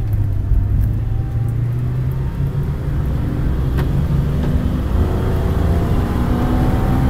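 An Acura TL 3.2 Type S V6 engine revs up steadily into VTEC, a loud, continuous rising drone heard from inside the car with no talking.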